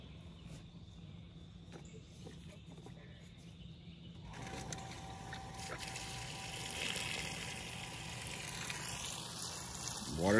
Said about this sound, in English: Water's coming out there.